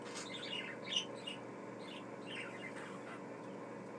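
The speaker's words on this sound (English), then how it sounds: "I love listening to them little guys chirp and talk." Several pet budgies chirp and twitter in short, scattered bursts, faint and fairly close against a steady low background hum, with no talking.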